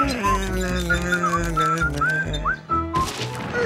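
A lilting tune is whistled in short rising and gliding notes over soft background music.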